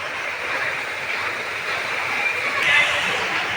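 Heavy rain pours steadily outside a home in Surat, flooding the ground floor and the road, as a continuous loud hiss of rushing water with no break throughout.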